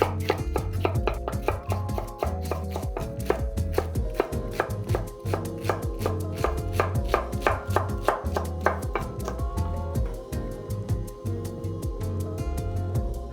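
A knife chops celery on a cutting board in a home kitchen, producing crisp, rapid, evenly spaced knocks that run steadily throughout, close and clear with no talking.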